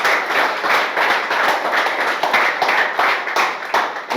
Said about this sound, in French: Acclamez pour moi